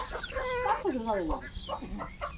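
Chickens cluck close by in a quick series of short, rising and falling calls, fairly loud and with no other sound competing.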